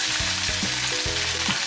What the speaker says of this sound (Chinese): 豆腐给它掰成块，然后下油锅煎一下